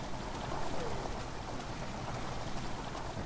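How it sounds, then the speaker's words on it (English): Rushing water fills a chamber in the game Amnesia: The Dark Descent, a steady, murky broadband wash with a soft trickling texture that holds at moderate level throughout, with no talking. "Rushing water in the chamber makes a strange sound."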